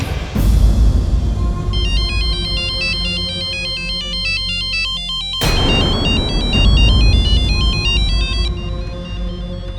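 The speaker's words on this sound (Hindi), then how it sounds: "इस पे किसी का भी फोन आना मतलब जरूर कोई ऋषि के बारे में खबर देना चाह रहा होगा।" A phone ringtone plays in a tense TV drama scene, a bright repeating electronic melody sounding loud and continuous over a heavy dramatic music bed, with a brief break midway before it resumes.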